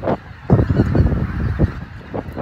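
Geese honk repeatedly in a noisy flock, loud nasal calls overlapping and bursting at irregular intervals, close by.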